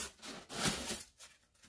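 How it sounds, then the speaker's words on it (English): Styrofoam packing from a boxed new-old-stock vintage item squeaks and rubs in a short, uneven burst, loudest midway and then easing into fainter scrapes. "Sorry about the styrofoam noise."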